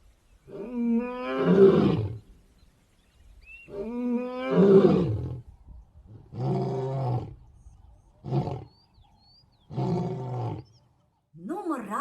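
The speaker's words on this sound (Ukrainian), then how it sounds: "а це справжній лев, справжнісінький цар звірів. Він має велику гриву і дуже голосно речить" A maned lion roars loudly and close by, two long rising, groaning roars followed by several shorter grunting bursts separated by brief silences.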